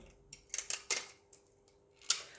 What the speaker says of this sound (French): Je vais lui mettre un petit bout de scotch.